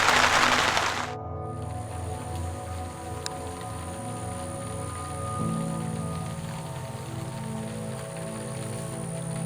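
Steady rain falls throughout at a campsite on the Wekiva, a dense hiss after a brief louder burst at the start, with a low tonal hum running underneath.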